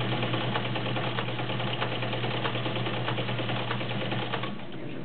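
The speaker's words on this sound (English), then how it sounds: "Turn a blind stitch on." A vintage Kenmore 1207 Heavy Duty sewing machine sews a blind stitch, running at a steady, even whir with a rapid ticking rhythm that holds for about five seconds before easing slightly at the end.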